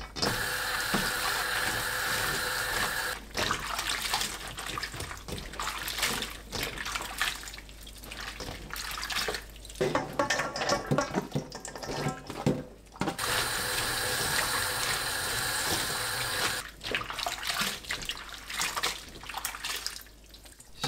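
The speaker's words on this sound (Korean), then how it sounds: "헹군 무말랭이는 바락바락 주무르면서 2번 반복해서 씻어줍니다." Dried radish strips rubbed and swished by hand in cold water in a sink, with running tap water, splashing and wet squeezing sounds coming and going steadily at close range.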